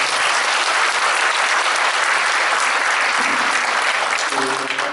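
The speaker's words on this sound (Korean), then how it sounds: "우리 변성국 교수님 박수 크게" Loud, sustained applause fills a seminary theology forum hall for a professor, dense and steady throughout, with a voice starting to speak near the end.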